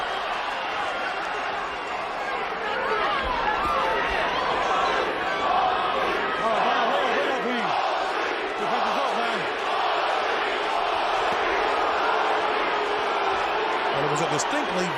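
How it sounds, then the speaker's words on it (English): A boxing arena crowd roars and murmurs continuously during the Shane Mosley versus Fernando Vargas fight, a dense, distant sustained crowd noise with swells, under commentary voices. "I think you're going to hear the crowd continue to change up back and forth in this entire fight."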